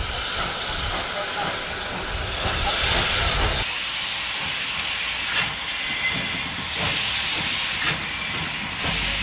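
An Alco-built TR-203 steam locomotive hissing loudly with escaping steam, then working with rhythmic chuffing bursts and rail noise as it passes.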